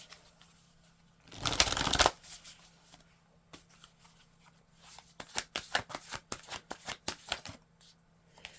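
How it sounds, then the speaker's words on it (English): Oracle cards are riffled in one loud shuffle burst, then a string of quick, close card snaps and flicks as cards are drawn, in a quiet room with no talk. "Let me pull another ancestor card."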